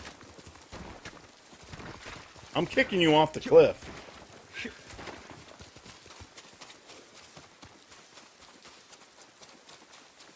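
A horse gallops in the video game Ghost of Tsushima, its clip-clopping hooves heard briefly at moderate volume beneath someone talking excitedly over the gameplay.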